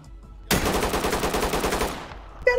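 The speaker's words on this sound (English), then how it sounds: "Got a shotgun." Gunfire rings out in the tactical shooter game Ready or Not. A loud, rapid burst of about a dozen close shots lasts roughly one and a half seconds, followed by a brief pause and a single sharp report.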